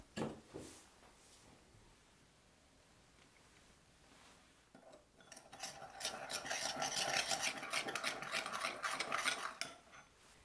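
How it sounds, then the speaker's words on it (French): Spice powder being stirred into light soy sauce: quiet scraping at first, then from about five seconds a louder, steady rasping stir with utensil scrapes against the bowl, close and continuous until near the end. "Je mélange avec 30 ml de sauce de soja claire"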